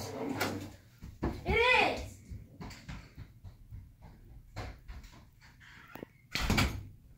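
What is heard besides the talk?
door opening and closing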